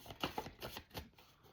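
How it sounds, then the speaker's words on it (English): Playing cards are shuffled close up in a quiet room, a quick riffle of soft rhythmic flicks and taps lasting just over a second. "Let me not spend too much time shuffling either."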